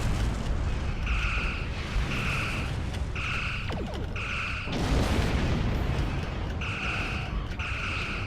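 Starship phaser fire and explosions in the space combat game Star Trek Online: repeated pulsing beam shots in regular bursts over a constant rumbling engine hum, with a heavy blast partway through.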